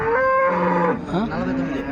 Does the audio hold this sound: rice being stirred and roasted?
no